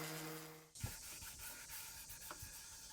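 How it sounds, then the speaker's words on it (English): Dried handmade wooden bowls sanded by hand in a workshop, a soft continuous rubbing hiss with a few light knocks, faint and close, following a brief steady hum that cuts off, with no talking. "Robbie sands them and then applies a special type of oil to the outer surface."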